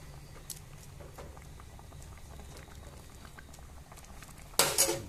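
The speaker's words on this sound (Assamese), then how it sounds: "মই এতিয়া অকণমান ইয়াত গৰম পানী দি দিম।" Hot water pours into a pan of simmering pumpkin flower curry, a steady low bubbling followed by a loud splashing rush at the end.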